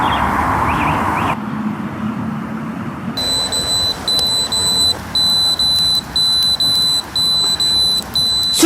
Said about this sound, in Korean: 일산화탄소가 올라갈수록 노란색으로 변하고 빨간색으로 바뀌면서 소리가 같이 나게 되어 있어요